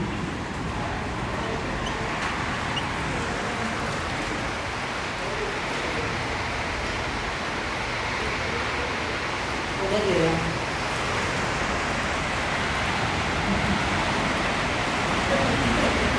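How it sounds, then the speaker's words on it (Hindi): Heavy rain falling steadily, a dense broadband hiss that stays constant throughout, with a voice speaking faintly at times. "ऐसी बारिश है"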